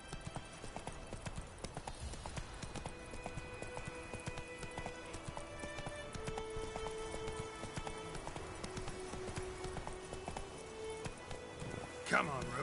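Roach the horse galloping in The Witcher 3, with a steady stream of rhythmic clip-clopping hooves running throughout at moderate volume, plus a brief louder bump near the end.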